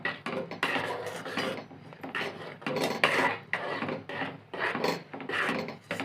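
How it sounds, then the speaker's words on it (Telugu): Flour being stirred into hot jaggery syrup for bakshalu, giving a steady scraping, rasping rhythm of spoon against pan in repeated strokes, close and fairly loud with no talking. "పిండి మొత్తం కలిసేదాకా మనం ఇలా కలుపుకోవాలి."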